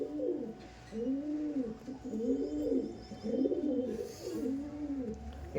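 A female Madras tournament pigeon cooing up close, a steady run of rhythmic low rolling coos in a row, with faint background noise.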